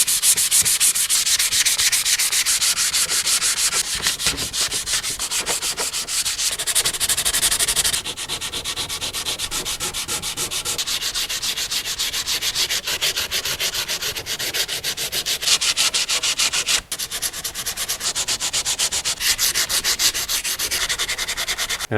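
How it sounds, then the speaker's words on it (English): Continuous, loud abrasive rasping of a power sander working over a wooden plaque, steady throughout with a brief dip partway. "All of this now has to get sanded away."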